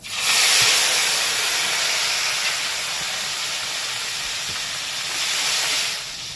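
Chopped tomato sizzles loudly in hot spiced oil in a pan, a continuous bright frying hiss that surges at the start and again near the end without any voices.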